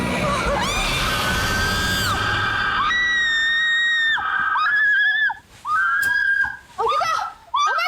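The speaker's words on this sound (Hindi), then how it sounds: "क्यों चिल्लाई तुम?" A girl screams in fright in a Hindi horror drama, with several long, high shrieks that break into shorter cries toward the end, loud and close.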